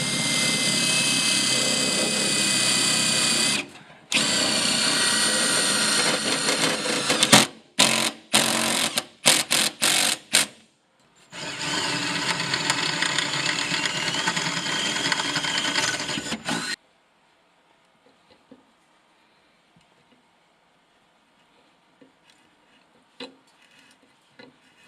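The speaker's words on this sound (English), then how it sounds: "Now, having pre-drilled these holes, I can use some self-drilling screws." A power driver whines in bursts, several long runs and a few short stuttering pulses as self-drilling screws are driven into pre-drilled holes, then the sound stops and it goes quiet.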